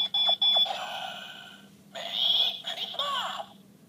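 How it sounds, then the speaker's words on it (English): A Gokai Red Ranger Key candy toy plays a sequence of bright electronic chimes and tones, loud and close, with short bursts, a pause, then warbling synthetic notes. "If you want to get a Merry Christmas sound, you have to,"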